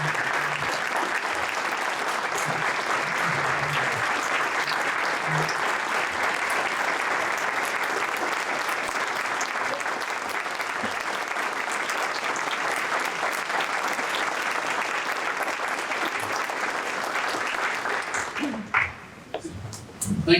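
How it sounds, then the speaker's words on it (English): An audience at a Pearl Harbor remembrance event gives a veteran a long, steady round of applause that stays full and loud for almost twenty seconds, then breaks off as a voice begins speaking at the end. "can I get another round of applause for Sammy?"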